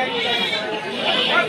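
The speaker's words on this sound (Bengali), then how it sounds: "এটা হচ্ছে খাসি ছাগলটা।" Goats bleating amid crowd chatter at a busy goat market, with several overlapping close calls under a dense wash of voices.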